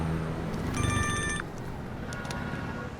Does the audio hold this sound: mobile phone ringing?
yes